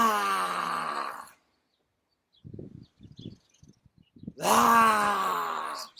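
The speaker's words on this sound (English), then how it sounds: "breathing out and sticking our tongue out and roaring" A person does a breathing exercise, exhaling forcefully with the tongue stuck out in a loud, drawn-out roaring "ah." Two long voiced exhalations come close and loud, separated by a quiet pause with small breathy noises.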